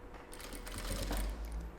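A sewing machine stitches fabric for a small bunny-shaped Easter vanity case, a faint continuous mechanical whirr with a quick rhythmic needle pulse.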